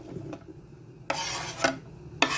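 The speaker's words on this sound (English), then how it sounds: "I'm going to dump my onions into it" Diced onions tumble into a pan for a tamale pie, giving a few bursts of rustling and scraping with a faint sizzle. The sounds are close, set between quieter stretches.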